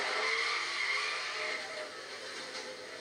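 Audi R8 drifting through a late corner in the Need for Speed racing game, its tires skidding and squealing in a steady high screech over engine noise, loud and continuous without speech.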